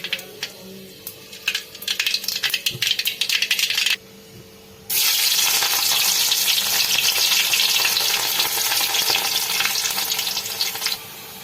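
Hot oil crackling and sizzling in a pan while tempering for Maggi noodles, with scattered pops and stirring clinks, a brief lull, then a loud sustained sizzle after ingredients go in.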